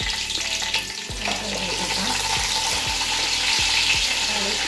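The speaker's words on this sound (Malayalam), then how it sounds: "കുറച്ച് കുരുമുളക് അതുപോലെ ഏലക്ക പട്ട പെരിഞ്ചീരകം ബീഫ് ഇല ഇതുകൂടി ചേർത്ത് കൊടുക്കാം നന്നായി ഒന്ന് ചൂടായി വരട്ടെ" Whole spices (pepper, cardamom, cinnamon, fennel, bay leaf) crackling in hot oil for a Palakkad-style beef biryani, a loud close sizzle with repeated stirring scrapes against the pot and no voices.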